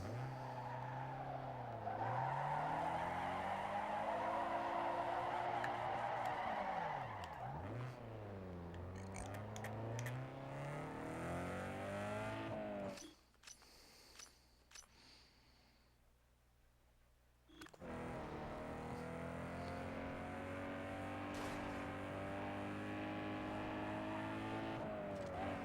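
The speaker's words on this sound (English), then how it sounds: "It's a removable hardtop Miata." A removable-hardtop Mazda Miata race car in Need for Speed Underground 2 revs through rising and falling gears with tire skids, then briefly drops to a quiet idle before the engine roars back, loud and alone.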